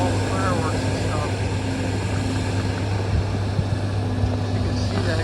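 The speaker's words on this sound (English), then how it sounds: "that plane on approach." Airplane on approach near Chicago Midway during fireworks, a steady low engine drone with a sustained hum, continuous and moderately loud, with faint pops and background sounds.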